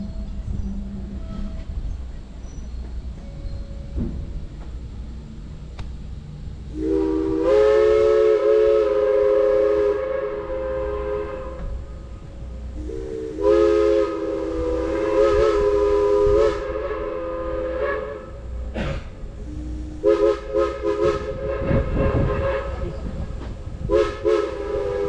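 A Strasburg Railroad steam locomotive sounds its whistle in three long sustained blasts separated by pauses, loud and fairly close over a low rumble, with faint talk in the background.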